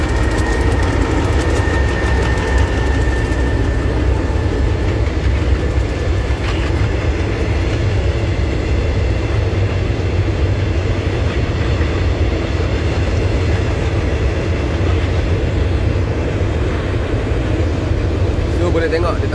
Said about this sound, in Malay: Kita berhenti sekejap kerana kereta api lalu di seberang sana.